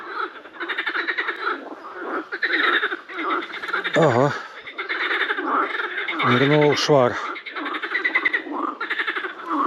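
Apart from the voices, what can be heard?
frogs croaking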